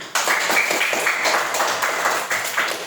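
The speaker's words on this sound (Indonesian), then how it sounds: "Tepuk tangan untuk semua." Students in a classroom applaud together, a dense, fairly loud burst of clapping that holds steady throughout with faint voices underneath.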